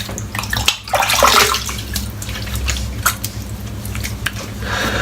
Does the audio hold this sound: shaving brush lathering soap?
yes